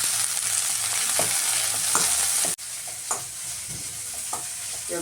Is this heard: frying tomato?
yes